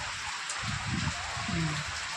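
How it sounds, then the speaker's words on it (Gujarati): Steady rain hisses throughout, with a voice speaking softly underneath. "જો આજે કેવો વરસાદ પડી રહ્યો છે તમે જોઈ રહ્યા છો"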